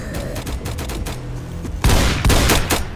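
Rapid gunfire rattles through a zombie-filled Brookhaven town in the Roblox video game: dense bursts of loud shots, some layered together into heavy volleys, continuous throughout.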